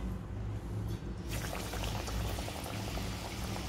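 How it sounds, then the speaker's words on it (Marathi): Batata vada fritters slipped into hot oil, setting off a steady, loud bubbling boil that swells after the first second and churns on without pause. "असं आपण एक एक करून आता घालणार आहोत वडे"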